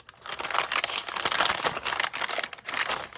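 Thin typewriting paper dyed with coffee and graphite crinkles and rustles continuously up close, a dense crackling texture that swells and dips without pause.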